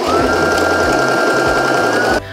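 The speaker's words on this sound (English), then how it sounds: "I'm going to pin this down and sew at a half an inch." A Brother sewing machine stitches a fabric waistband on a skirt in a steady, loud, fast mechanical whir close by, running continuously before stopping abruptly near the end.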